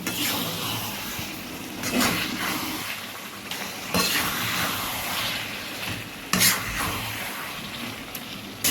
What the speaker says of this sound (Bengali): এরপর আমরা খুন্তি দিয়ে ভালো করে নেড়ে চেড়ে মশলার সঙ্গে চিকেনকে সুন্দরভাবে মিশিয়ে দেব।